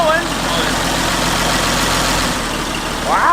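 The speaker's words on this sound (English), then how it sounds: "That's a running tractor if I've ever seen one." An old Oliver tractor engine idles steadily and quietly with a low, even rumble, while a short squeaky sound cuts in at the start and again near the end.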